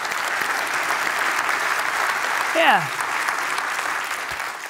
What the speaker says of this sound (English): can we do one more round of applause for all our readers?